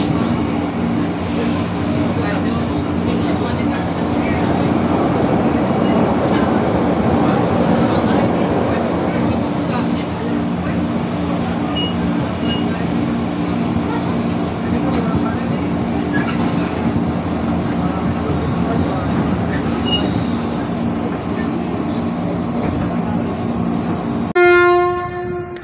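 A commuter train runs through Jakarta, giving a continuous loud rumble and rattle of rail wagons for the whole span. A short, sharp tone rises near the end.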